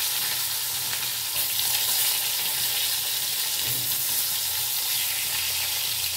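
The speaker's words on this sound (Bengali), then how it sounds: "এই যে 4 পিস বেগুন নুন হলুদ মাখিয়ে রেখেছি, এটা আমি ভেজে নেব।" Four eggplant pieces coated in salt and turmeric frying in already hot oil, giving a loud, steady, dense sizzle that stays even throughout with no voices.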